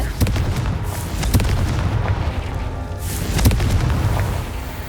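Confringo explosive spell going off in Hogwarts Legacy, a loud booming blast with sharp repeated bursts over a rumbling low background, several impacts spread across the few seconds.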